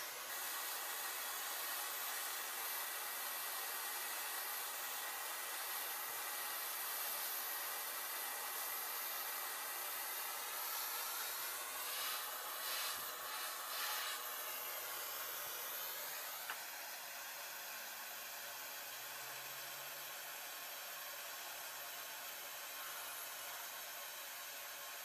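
A torch flame hisses steadily and loudly while heating a US quarter until it glows red hot, a continuous broadband roar with a brief rustling burst midway and no voices.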